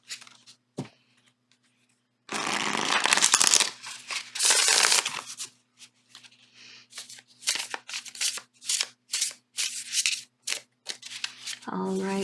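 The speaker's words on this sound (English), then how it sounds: "I just love the way this deck sounds when it shuffles." A tarot card deck is shuffled close up, with a long riffling burst followed by a rapid series of short crisp card flicks and slaps, loud against near silence.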